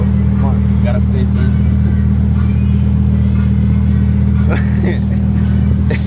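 Loud, steady engine drone of a rented Lamborghini Huracan Evo being driven, heard from inside the car with a constant low rumble throughout and people talking over it.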